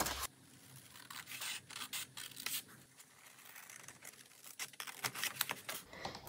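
Scissors slice the flaps off a paper envelope: a busy, close run of crisp snipping and papery crinkling that comes in bursts and continues almost without pause.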